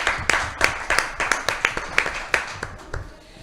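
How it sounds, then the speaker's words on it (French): Bursts of hand clapping from a small group in a French radio studio, uneven sharp claps close to the microphone, fading toward the end. "On applaudit."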